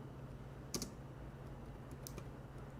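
Quiet typing on a computer keyboard, a few sharp clustered key clicks near the start and again toward the end over faint room hiss, with no talking.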